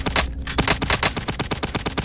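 Rapid automatic gunfire in the Warzone shooter game, a dense string of sharp cracking shots in quick regular bursts, loud and close with no voices.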